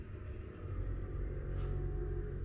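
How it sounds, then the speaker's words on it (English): A bus passes on a road, heard as a steady, loud low rumble of engine and tyres that swells slightly around the midpoint, close by, with no talk. "And of course, a bus."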